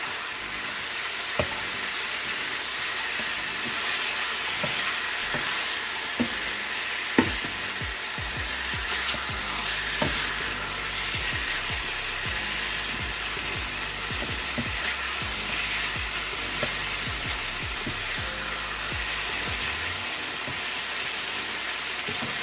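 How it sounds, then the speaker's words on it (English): Chicken browning in a pan for Jamaican brown stew, with a loud, constant sizzle and frying hiss throughout and occasional clinks of stirring, no voices. "I'm going to be browning this chicken for a while, maybe for 20 minutes before I add the additional seasonings."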